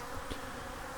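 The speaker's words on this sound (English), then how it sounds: "The bees are drinking it, but after they drink it, they're having problems flying away." Honey bees buzz around a feeder of cold, full-strength ProSweet sugar syrup, a steady dense hum with a couple of brief louder passes as single bees fly close.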